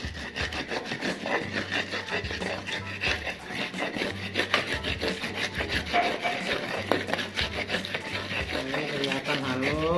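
Sambal kecap ground by hand in a mortar with a pestle turned round and round, a steady gritty rubbing and scraping in quick repeated strokes, close and continuous.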